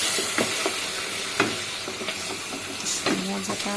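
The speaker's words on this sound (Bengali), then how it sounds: "মশলাটা ভালোভাবে কষিয়ে নেব।" Meat and spices fry in a pan with a steady, dense sizzle and hiss, broken by intermittent stirring clatters and scrapes, close and moderately loud throughout.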